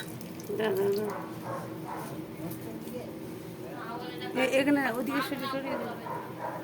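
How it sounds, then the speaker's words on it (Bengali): Water is added little by little to fish roe fritter batter, a soft trickle and splash heard under a voice talking throughout. "একটু একটু করে জল দিয়ে দিলাম"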